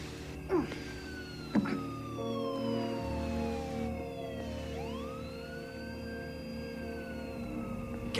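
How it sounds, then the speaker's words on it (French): A police siren wails steadily through a tense horror-film scene, its rising and falling tone sustained over a low background hum, preceded by two sharp knocks. "J'ai entendu une sirène de police."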